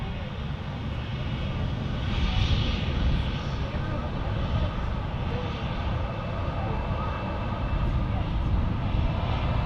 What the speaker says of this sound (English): There's another aircraft on approach as well.